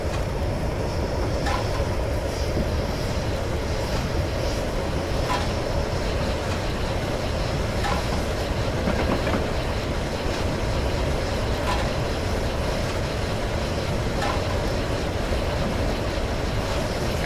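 Steam locomotive Tornado in a Train Simulator run on the Settle to Carlisle line: a constant loud rumble with rhythmic chuffing beats and wheel clatter at regular intervals.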